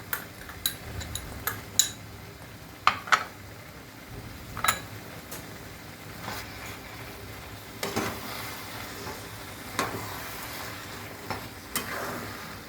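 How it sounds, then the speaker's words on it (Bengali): Carrot halwa being stirred with ghee in a pan, a spoon scraping and clinking against the metal in scattered sharp knocks over a faint, steady sizzle, close and fairly quiet with no voices. "দিয়ে একটু মিশিয়ে নেবো দিয়ে নামিয়ে নেবো"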